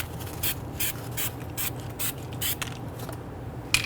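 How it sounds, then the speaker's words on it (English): Short hissing bursts of anti-seize compound spray repeat at a steady pace during a front brake job on a Nissan Quest, over a low mechanical hum, with faint clicks and a creak near the end. "We're going to use our spray for this."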